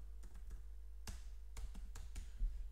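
Typing on a computer keyboard, a short run of irregular key clicks with a few sharper taps, close and fairly quiet over a steady low hum, with no talking.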